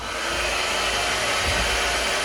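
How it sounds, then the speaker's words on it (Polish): A rotating brush hair dryer blows in a steady, loud whir close by as it winds and dries a strand of hair. The motor hum stays unchanged throughout. "w momencie, kiedy już jest nawinięty ten włos, dalej suszarka suszy"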